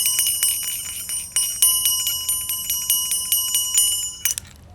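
Repeated rings of a bright metallic bell, struck about a dozen times in an uneven rhythm with long shimmering overtones, loud and close, then cut off abruptly near the end with no talking.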